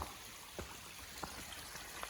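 Small stream trickling beside a hiking trail, a steady faint wash of water with a few soft splashy drips standing out, no voices.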